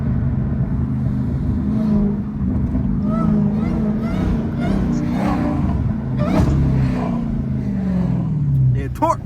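Dodge Hellcat engine rumbling and revving with deep low-end growl throughout, loud and close as from inside the car, with people talking over it.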